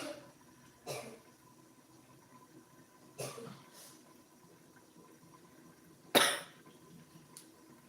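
Three isolated coughs, spaced a few seconds apart in a quiet room, the last one sharper and louder than the first two.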